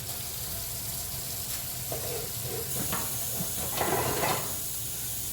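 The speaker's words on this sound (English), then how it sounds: "I'm gonna wash my hands." Running tap water pours in a steady hiss as hands are washed in a home kitchen sink, with soft splashing bursts rising and falling near the end.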